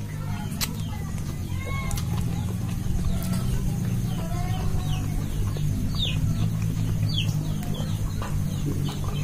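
Chickens cluck and chirp in short bursts over a steady outdoor rumble, with scattered bird calls throughout.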